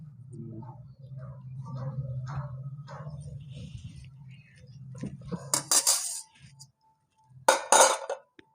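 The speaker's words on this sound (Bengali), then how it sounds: "ভাতটা বেড়ে নিই।" Rice is served onto a plate with a low scraping hum, followed by sharp clinks and clatters of dishes and a serving spoon in two bursts near the end.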